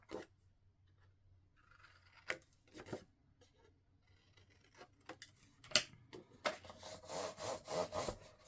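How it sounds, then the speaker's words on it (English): Scored cardstock folded and burnished for a scrapbook album, with soft rubbing and scraping strokes, a few sharp taps, and a louder stretch of rubbing near the end, close and otherwise quiet. "Get that folded and neatly burnished"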